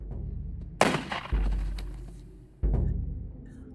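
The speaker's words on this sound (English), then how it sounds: "there's a very specific sound to a gunshot in a Scorsese movie" Gunshots from a Scorsese movie: two sharp, loud cracks about two seconds apart, each followed by a rumbling, echoing tail, with no talking.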